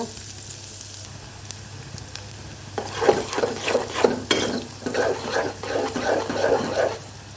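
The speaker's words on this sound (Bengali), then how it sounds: "এখন পেঁয়াজটাকে এভাবে ভেজে নেব" Onions frying in a pan with cardamom, bay leaf and cinnamon for khichuri, quiet at first, then louder sizzling with rhythmic stirring and scraping strokes close by.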